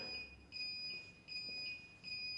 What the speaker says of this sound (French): Ça fait un bip assez embêtant.